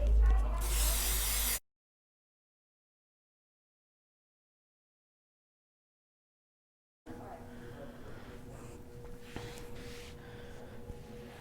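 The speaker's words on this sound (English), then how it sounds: "spraying it with 505." 505 spray adhesive is sprayed onto quilt batting in a short, loud hissing burst, followed by silence and then a quiet stretch of talking.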